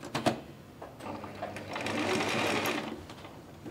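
A sewing machine runs a straight stitch on a summer dress near the buttonholes, starting with a few clicks, then building into a steady close whirring hum that fades slightly at the end.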